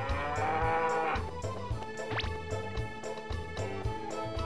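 Cows in the video game Harvest Moon 64 moo in a short run of low calls, fairly faint and alone, with no talk over them.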